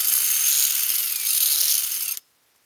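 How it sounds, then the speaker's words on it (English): A 7/16 drill bit is wobbled in a hole to widen it for a Dig brand hose fitting. A steady, high-pitched whirring and rasping runs for about two seconds, then stops abruptly into silence. "7/16 drill and just wobble it a little bit and it'll fit the hose better."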